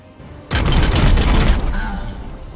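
Gunfire in Warhammer 40,000: Chaos Gate Daemonhunters erupts suddenly as a loud, dense burst of rapid shots and booming impacts. It holds steady for about a second, then eases into a lingering rumble with faint game sounds.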